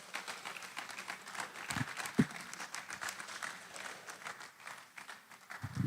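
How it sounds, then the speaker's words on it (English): Audience applause welcoming the chairman at a business summit and exhibition, a steady wash of many hands clapping through the room, moderately loud and sustained, with a few louder claps and low thumps standing out. "With a round of applause, please."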